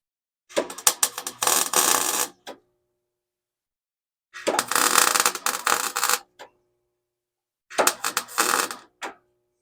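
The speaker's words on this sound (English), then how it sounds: "Take our magnets off." Magnets come off a truck's old metal panel during rust repair on a 1945 International K, in three separate bursts of dense metallic clicking and scraping, each about two seconds long with silent gaps between.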